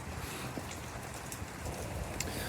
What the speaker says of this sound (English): I just love being in the rain